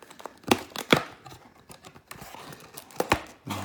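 The plastic wrap on a Yu-Gi-Oh booster box is torn and crinkled open, heard as several sharp ripping bursts and crackling scrunches close by, with quiet handling between them.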